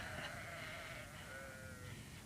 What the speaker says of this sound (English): So, good for the sheep, I dare say.